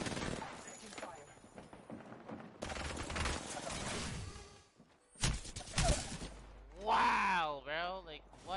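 Gunfire in the video game Apex Legends during an ALGS tournament match: repeated bursts of rapid shots, some sharp and loud, some more distant, with in-game voice lines and other game sounds mixed in.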